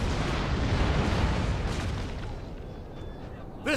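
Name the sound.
cannon fire in Napoleon Total War video game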